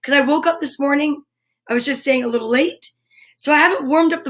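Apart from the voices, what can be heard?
None of the usual background noises is heard.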